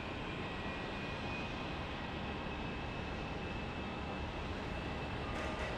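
Airbus A321neo airliner engines at Phoenix Sky Harbor International Airport, a steady, broad jet roar with a faint high whine, constant and moderately distant throughout, with no voices.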